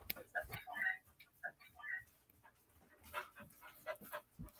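Several busy dogs pant and snuffle in quick, uneven bursts close by, with short whimpery breaths mixed in and faint background noise, and no talk over them.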